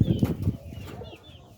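A pigeon inside a backyard pet house kept alongside chickens, heard in a brief close flutter with a soft coo-like murmur that fades out.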